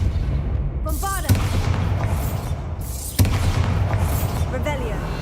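Spell explosions from Bombarda in the Hogwarts Legacy video game, two sharp booming blasts with crackling debris and magical whooshes, loud and close over a steady background rumble.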